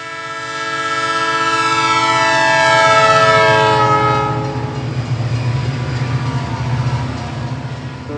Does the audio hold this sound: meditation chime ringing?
no